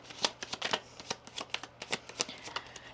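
Oracle and Kipper cards are shuffled close to the microphone in quick bursts of riffling flicks, about a dozen crisp snaps in an uneven rhythm, with no talking.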